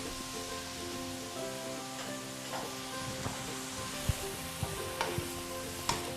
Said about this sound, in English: 1, 2, 3 and 4 tablespoons of soya sauce going in there